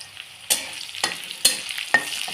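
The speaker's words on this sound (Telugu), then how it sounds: "ఉల్లిగడ్డ కొద్దిగా ఎర్రగా వేగాలండి" Onions frying in a pan with curry leaves and garlic, a steady close sizzle broken by several sharp spoon scrapes and taps roughly every half second.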